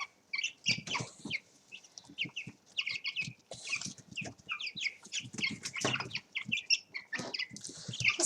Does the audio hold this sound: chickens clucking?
yes